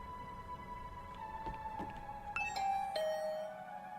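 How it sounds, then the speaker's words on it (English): A doorbell rings in a video game, a clear electronic ding-dong chime sounding twice with bright tones over a faint background hum, alone with no voices. "I rang the doorbell. I could hear the bell ring on the other side of the door."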